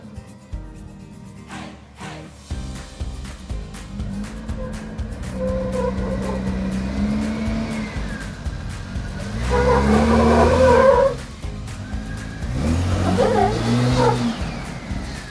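A truck on BF Goodrich tires drives off-road, its engine revving and surging in loud bursts with tire noise, rising and falling close by.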